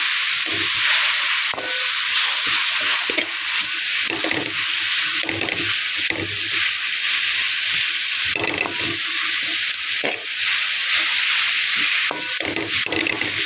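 Drumstick leaves frying with onion, dried chilli and salt in a pan give a loud, continuous close-up sizzle, broken by repeated scraping stirs of a spoon throughout.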